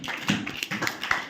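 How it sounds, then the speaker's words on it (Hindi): Students in a classroom clap for a classmate, a short burst of light, scattered claps and taps at modest loudness. "विशन बेटा के लिए ताली बजाओ।"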